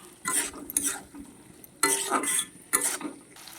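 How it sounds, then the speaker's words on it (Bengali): Already-fried potatoes are stir-fried in oil in a pan, with three bursts of scraping and clattering spatula strokes over a faint sizzle and short quiet gaps between them. "আলুগুলো দিয়ে আমি কিছুক্ষণ কষিয়ে নেব"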